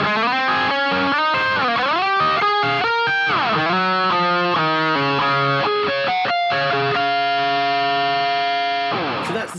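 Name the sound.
distorted electric guitar through Boss GT-1000 Core and SY-200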